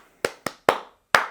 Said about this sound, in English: maybe in the next 10 minutes I want to be able to clap the rhythm